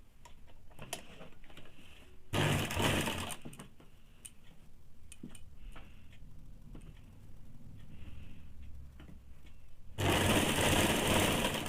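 Electric sewing machine stitching a saree blouse seam in two loud, steady bursts of rapid whirring, each about a second or two long, separated by quieter handling and rustling of fabric.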